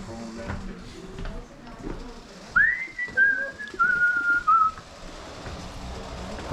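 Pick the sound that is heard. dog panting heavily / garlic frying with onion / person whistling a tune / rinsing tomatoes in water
person whistling a tune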